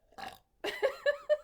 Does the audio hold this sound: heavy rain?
no